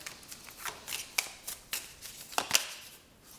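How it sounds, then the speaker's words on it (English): A deck of tarot cards being shuffled by hand during a psychic card reading, giving quiet, close riffling and sliding bursts in an irregular rhythm with soft taps, with no talking. "let's go ahead and shuffle this deck right here"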